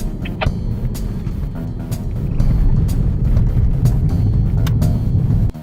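A car on soft Bridgestone Blizzak winter tires drives a winter course, a loud steady engine and road rumble that swells toward the end, with scattered clicks and knocks and no talk.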